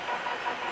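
Stainless steel pipe end being faced on a lathe at high spindle speed, a steady close hissing, scraping cut with a bright ringing edge, continuous and even for its short length with no talk.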